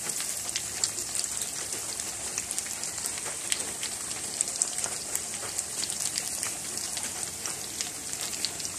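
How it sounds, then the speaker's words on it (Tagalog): Rain falls on a wet morning, a soft, even crackle of many drops on surfaces that goes on without pause, fairly faint and alone. "Sa maulan na panahon"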